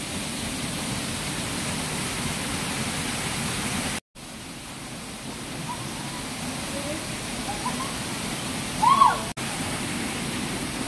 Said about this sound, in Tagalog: Guys, napakalakas po ng agos ng tubig.